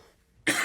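A single sudden cough from a man recording at home: one short, loud, harsh burst after a near-silent lead-in, close to the microphone.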